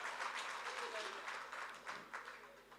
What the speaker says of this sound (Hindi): एक बार आप लोग उनकी विदाई में जोरदार तालियां बजा दीजिए।